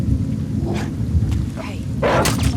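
Heavy rain and rolling thunder in The Last of Us Part II, a constant loud low rumble and downpour wash with brief rising swells and a few voices over it.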